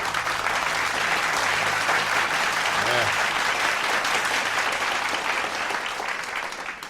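Hands clapping in a podcast studio, a loud, sustained burst of applause that keeps an even level and tapers slightly toward the end.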